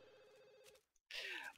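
A telephone rings in The Sims 2, a steady electronic trill for most of a second, then a brief gap before a brighter, louder chime of game sound.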